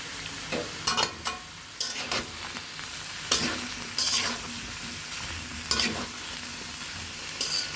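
Raw jackfruit and chicken being sautéed with chili and turmeric powder, a steady sizzle broken by repeated scraping stir strokes in the pan, close and alone with no voices.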